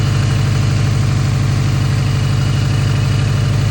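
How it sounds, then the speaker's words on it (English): A rebuilt car engine idles steadily and close by on its first start, a constant low rumble with an even pulsing throb and no voices. "First start ever on this new engine."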